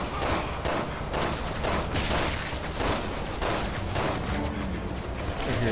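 Gunfire from Resident Evil 6: dense, continuous bursts of rapid shots and fusillades, loud and close, with a steady chaotic barrage running throughout the stretch.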